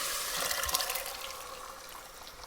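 Boiled split chickpeas and their cooking water, tinged with turmeric, are poured into a pot of lentils, a steady close splashing pour that tapers off without voices.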